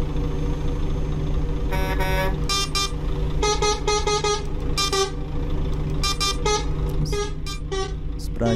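Bus horn of a Marcopolo G8 in a driving game on a road in Goiás, honked in repeated short and long blasts over a steady engine drone.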